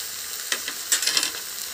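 Boiled peas drop into a pan of sizzling tomato chicken rice, where a steady close frying hiss carries a few sharper crackles and spits as they land, with no talking.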